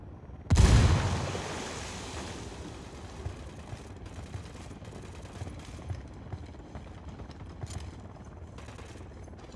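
Frag grenade explosion in the Ghost Recon Wildlands video game: a single loud, close blast with a heavy low boom that decays slowly, followed by faint scattered clatter and rumble.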